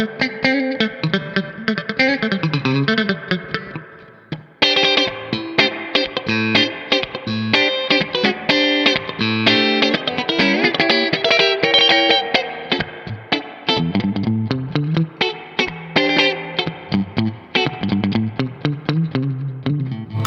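Electric guitar played through an AmS amplifier with reverb, a continuous run of chords and single notes with an effected, slightly distorted, spacious tone, loud and close throughout with no talking.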